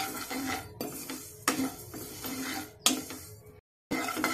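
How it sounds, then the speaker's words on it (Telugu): Vermicelli and soaked sago fry over a high flame in a pan for payasam, with a spoon repeatedly scraping and clinking against the metal in short bursts and a brief silent gap near the end. "ఇలా ఫ్రై చేసుకుంటూనే ఉండాలండి"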